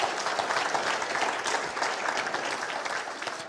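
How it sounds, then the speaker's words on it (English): Steady applause from an audience at a talk, dense overlapping claps sustained at an even level throughout without pause. "Let's give him a round of applause."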